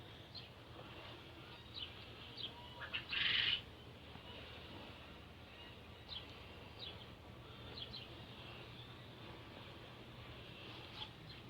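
Faint bird calls and chirps over a quiet outdoor hum, with one louder burst of calling near the start.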